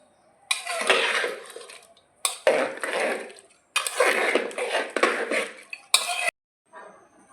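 Mutton kosha curry scraped and poured from a metal pot into a serving bowl: several close bursts of spoon scraping against metal with clinking, broken by brief pauses.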